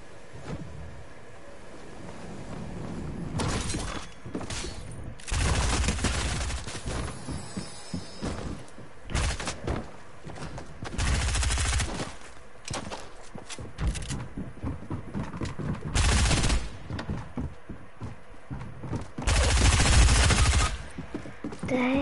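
SMG gunfire in a Fortnite-style duos battle royale match, repeated loud bursts of rapid automatic shots in irregular clusters with pauses between them.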